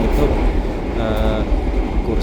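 Wijaya Kusuma passenger train running, heard from inside a carriage: a steady, loud rumble and rattle with low clatter throughout, no voices.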